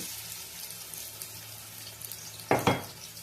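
Chopped onion frying in oil for a bottle gourd and shrimp curry, a soft steady sizzle under a faint background, with two louder bursts of stirring or clatter near the end.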